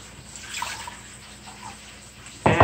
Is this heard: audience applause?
no